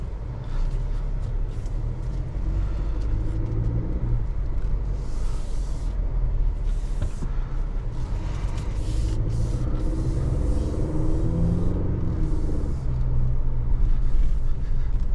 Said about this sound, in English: Let's drive it in Baja mode.